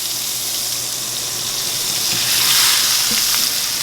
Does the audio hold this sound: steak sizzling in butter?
yes